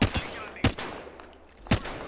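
Gunfire in the video game Armed & Dangerous: a few sharp, separate shots crack nearby at irregular intervals, with quieter ambience between them.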